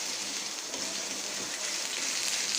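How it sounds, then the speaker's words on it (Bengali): Chopped onions fry lightly in a generous amount of oil for loitta shutki bhuna, a spicy dried Bombay duck dish, giving a steady, even, close sizzling hiss with no talking. "পেঁয়াজটাকে আমি খুব বেশি ভাজবো না, হালকা ভাজবো।"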